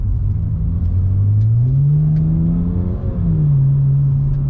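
A 2008 BMW 335i E92 with its twin-turbo inline-six revs steadily, the pitch climbing, dipping briefly and rising again in a smooth, loud, continuous drone with no talking.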